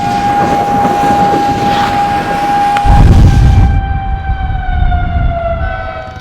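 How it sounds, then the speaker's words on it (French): A loud tornado warning siren wails steadily in the open with a strong, sustained tone that slowly sags in pitch, while wind or rumble swells underneath. "sirène."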